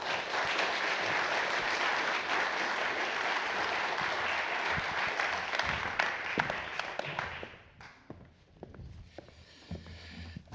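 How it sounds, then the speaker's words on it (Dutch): Indoors at the 2020 HJ Schoo lecture, a large audience gives sustained applause to welcome the speaker. The clapping is thick and even for several seconds, then thins into scattered claps and shuffling before fading. "Dames en heren, graag uw aandacht en uw applaus voor Klaas Knot."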